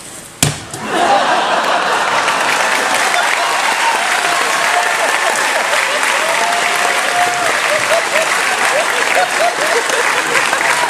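An audience at a convention talk on a cruise ship bursts into loud, sustained applause that lasts around ten seconds. It starts with a sharp clap and then stays as a dense, steady wash of clapping.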